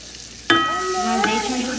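Butter and a splash of olive oil hit a hot pan and burst into a sudden, close sizzle that holds steady and bright, with a faint clink of a utensil partway through.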